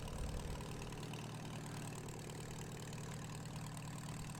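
A tractor engine idles and runs in a farming video game, a steady mid-to-low drone with a slight knocking pulse holding at an even level from start to end with no voices.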